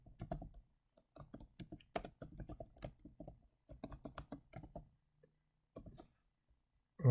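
Rapid typing on a computer keyboard, bursts of close, crisp key clicks separated by short pauses, quiet room and no talking.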